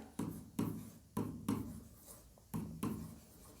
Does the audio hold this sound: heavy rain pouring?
no